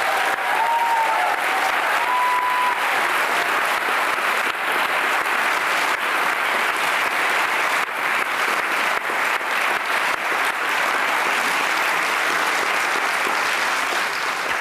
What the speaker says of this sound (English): Could we give them all a round of applause?